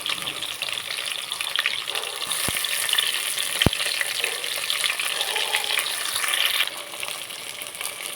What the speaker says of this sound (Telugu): ఆనియన్స్ కొద్దిగా ఫ్రై కావాలి. వంకాయలు వేసుకుందాము